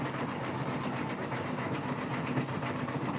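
A Janome M17 sewing machine stitches an in-the-hoop quilt block for a Sweet Pea quilt, giving a steady, fast mechanical whir with a regular needle rhythm that runs loud and unbroken throughout.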